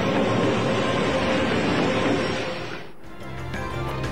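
Passenger train running in Pakistan after flood service was restored, heard as a loud, steady rumble of wheels on rails with a rushing roar that briefly dips, then continues with faint clatter.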